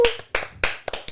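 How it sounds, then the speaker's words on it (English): A few sharp, separate hand claps from a small group recording a podcast in a garage. There are about five close, uneven strikes in quick succession, with no crowd behind them. "Round of applause, round of applause."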